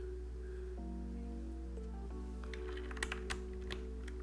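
Keystrokes on a mechanical TKL keyboard, a run of sharp clicks and clacks in the second half, over a steady background hum and tonal sounds.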